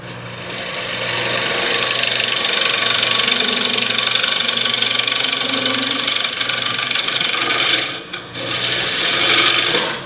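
A bowl gouge undercuts the underside of a wooden platter's lip on a lathe, producing a loud, continuous rasping cut over the motor's hum, with a brief dip near the end before the cutting resumes.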